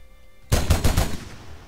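A mounted machine gun in an Unreal Engine 4 game fires a quick burst of about five loud, close shots in rapid succession, then fades into a brief echoing tail.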